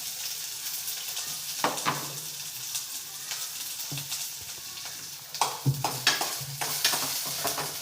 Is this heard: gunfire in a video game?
no